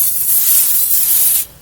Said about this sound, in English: take your Pam and you just want to spray the grill